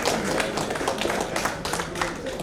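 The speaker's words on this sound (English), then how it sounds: "go for a wonderful big round of applause" Applause at a company reunion gathering, a steady wash of many hands clapping together at moderate volume, continuous throughout without a clear start or finish.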